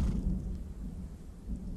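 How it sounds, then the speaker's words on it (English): Thunder rolls in a low, steady rumble with rain hissing beneath it during a storm in an Old West outlaw video game, continuous and fairly full throughout with no voices. "I can see the lightning off in the distance, and I can see the rain coming down"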